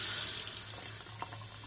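Hot water running from a household tap with a broken hot water supply, a steady close hiss of flowing water with a slight splashing texture throughout.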